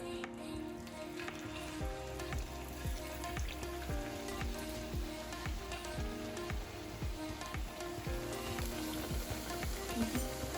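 An empanada slowly lowered into a pan of hot oil, giving a soft, close, steady sizzle dotted with many small popping crackles, with no talking over it.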